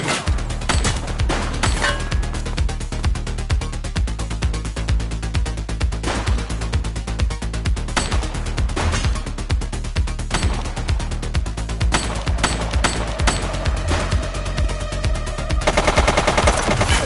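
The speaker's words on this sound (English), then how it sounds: "He's shooting!" Sustained rapid gunfire from The Precinct, a police video game, with bursts of automatic fire and single shots rattling almost without pause, loud and close throughout.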